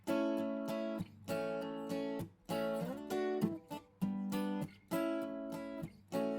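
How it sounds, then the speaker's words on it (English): A Martin D28 or D18 acoustic guitar, close-miked with an SM81 and run through Behringer preamps, rings out in full rhythmic chord strums, several bursts of bright strumming separated by short pauses, at a soft level. "A really nice Martin guitar"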